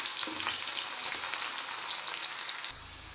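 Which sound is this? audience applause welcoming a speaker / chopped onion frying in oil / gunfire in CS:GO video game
chopped onion frying in oil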